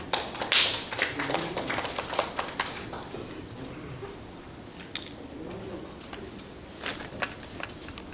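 An indoor audience at a film festival event gives a patter of scattered, fairly close applause that swells at first and then thins into sparse claps, with faint voices murmuring underneath.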